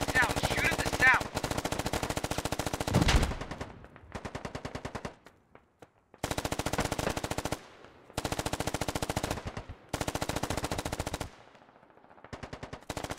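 Gunfire in the video game Squad comes as long bursts of rapid automatic fire, fast even rattling strings broken by short pauses and quieter gaps, loud and continuous for most of the stretch.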